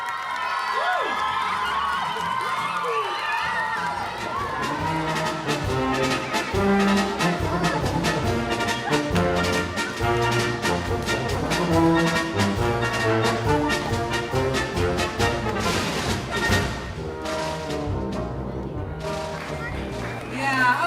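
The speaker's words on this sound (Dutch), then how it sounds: "Ja, applaus." Circus audience at Sirkus Witova claps and cheers for about twenty seconds, a dense crowd roar with scattered shouts and sharp claps, steady and close.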